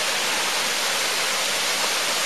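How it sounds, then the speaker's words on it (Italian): A waterfall roars steadily and densely at the edge of a cliff drop of about forty metres near Nepi's Bastione Borgiano, a loud unbroken wash of falling water with no pauses. "ai bordi della cascata."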